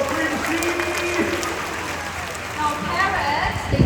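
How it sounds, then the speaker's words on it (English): Crowd applause at a bird show for a performing parrot, steady dense clapping throughout with a voice speaking over it and a slight swell toward the end. "Once again, big round of applause for Quincy."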